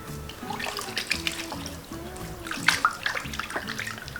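Water running and splashing as a brass vessel is rinsed, with soft clinks and sloshing over about four seconds, close by.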